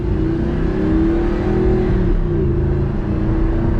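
A stock 2009 Audi R8 with a 4.2L V8 in sport mode holds a loud, steady high-rev drone from inside the cabin during a drive, with a continuous throaty engine note and no talking.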